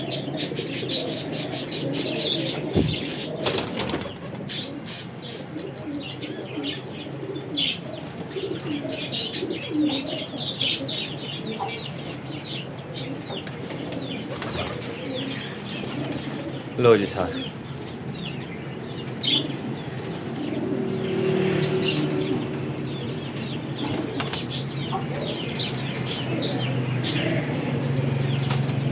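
A flock of roof-kept flying pigeons coos and flaps its wings steadily up close, with scattered chirps and wing bursts, and a brief voice near the start.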